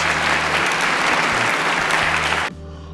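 A round of applause from a studio crowd fills the air with dense, steady clapping that cuts off abruptly near the end, leaving a quieter room.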